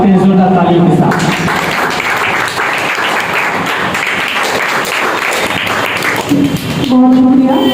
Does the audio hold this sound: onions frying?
no